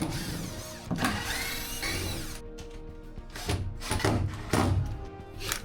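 A router cuts a porthole opening through the side of a narrowboat under construction, a loud, continuous high-pitched whine with bursts as the bit bites, running steadily throughout the clip without voices.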